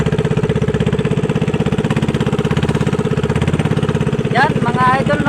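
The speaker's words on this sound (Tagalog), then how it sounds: "umaandar yung kanyang makina" The engine of a motorized outrigger boat towing another boat at dusk runs loud, steady and close, with a continuous rhythmic chugging throughout and a brief higher sound near the end.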